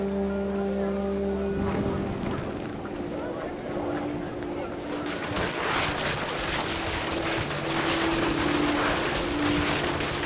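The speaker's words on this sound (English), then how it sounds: "Rain came down in buckets then" Heavy rain in a video game pours down steadily, swelling into a louder, denser downpour halfway through, with no talking.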